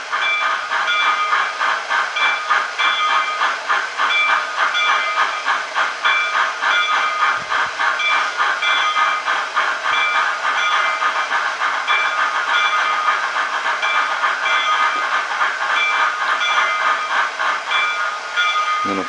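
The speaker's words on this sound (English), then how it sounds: "Turn on the oil burner." A model steam locomotive's oil burner switched on, giving a steady loud roaring hiss with a fast rhythmic chuffing pulse that holds evenly throughout, close and continuous with no voices.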